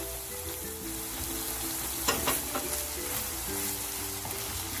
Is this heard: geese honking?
no